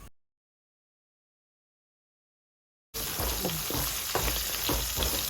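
Onions frying in a pan with cumin, black pepper and green chillies give off a steady, bright sizzle that starts abruptly after a silent gap and continues close and loud.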